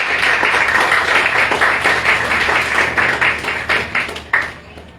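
A church congregation claps together, a loud, slightly uneven burst of hand clapping nearby that thins out and fades over about five seconds.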